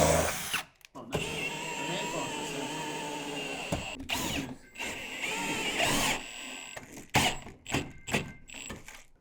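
A power tool drives bolts for a wall mount holding a 98-inch TCL TV, with a close, whirring motor running in spurts and brief pauses and handling noises in between.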